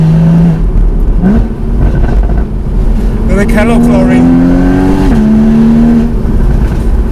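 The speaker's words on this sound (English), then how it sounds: "the GTS has got unique engine mapping that delivers more snap, crackle and pop between gear changes" A Porsche Boxster 981 GTS engine with sports exhaust revving and climbing through the gears, loud and close, with someone talking over the steady drone.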